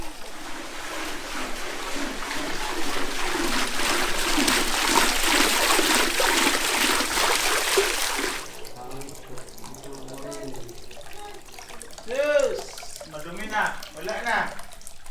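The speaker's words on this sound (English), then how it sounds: "So this is the first drop of water into the swimming pool." Water gushes from a hose into a newly built swimming pool, a strong steady splashing rush that stops partway through, followed by someone talking.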